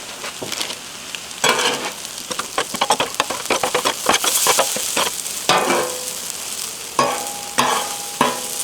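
Cashew peppered beef lo mein is stirred with sauce on a hot Blackstone griddle: loud, close, rapid spatula scrapes and clatters come in uneven bursts over a constant frying sizzle, with no talking.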